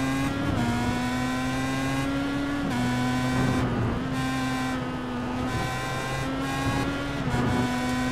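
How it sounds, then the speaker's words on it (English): Pro Mazda Championship race cars at Laguna Seca, engines droning steadily and loud with pitch sweeps as cars pass close by, shifting through gears, continuous engine noise throughout with no talk. "2 laps to go here on Laguna Seca as they zoom on by a lap car"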